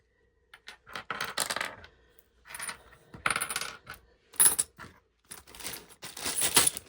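Rustling and clinking of a small bag of sewing machine accessories being handled up close, with intermittent bursts of crinkling and light metal parts knocking together, separated by brief pauses.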